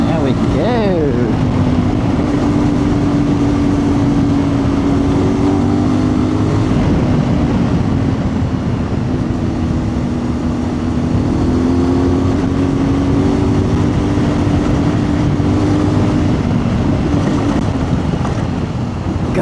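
A CFMOTO 450MT motorcycle ridden hard on a wet Tasmanian road, its engine note droning steadily and rising and falling in pitch, with heavy wind rush over the microphone throughout.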